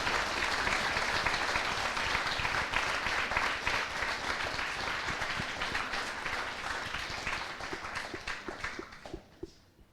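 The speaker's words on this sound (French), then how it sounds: "On peut l'applaudir." An audience at an eloquence contest final applauds with steady, dense clapping that gradually thins out, ending in a few scattered individual claps.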